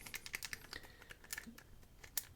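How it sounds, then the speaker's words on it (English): Jiggler key being worked inside a Union 3270 padlock, producing a quick run of small, close metallic clicks and rattles at an irregular rhythm, with no talking. "without sliding out, jiggle this lock open"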